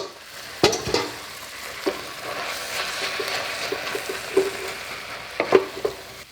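Spinach tossed into garlic sizzling in a pan, giving a steady crackling fry with intermittent scraping and clinking of a utensil, fairly close and loud.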